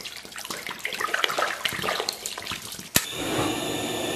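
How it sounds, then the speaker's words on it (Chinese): Water pours and splashes into a cooking pot in an irregular, gurgling stream, close by, then settles into a steadier filling rush before the pork belly is blanched. "锅里边稍微来点水，再来两块猪皮，然后来点料酒"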